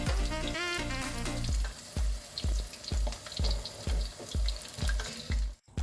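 Cauliflower 65 pieces frying in hot oil make a steady, close sizzle and crackle, with regular stirring or scooping knocks through it and no talking.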